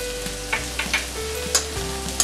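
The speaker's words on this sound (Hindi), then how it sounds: "प्याज हमारा सेक के हो गया है। अब हम इसमें हल्दी डालेंगे।" Onions frying in a pan for kanda poha while turmeric is stirred in: a steady close sizzle with soft scraping stirs recurring every half second or so, no voices.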